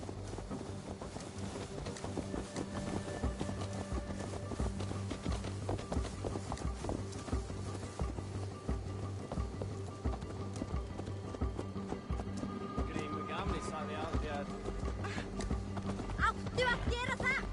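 Horse hooves clip-clop steadily while riding in Assassin's Creed Valhalla, a continuous rhythmic beat under a constant layer of game music and ambience, with a brief bit of talk toward the end.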